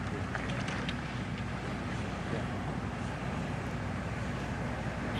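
Wind gusting across a golf course at a women's professional tournament, a constant low rushing roar buffeting the microphone throughout, with no clear voices.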